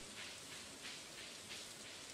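Steady rain patters softly and evenly in the Stardew Valley farming game, a faint continuous hiss of drops on surfaces with no voices or other sounds.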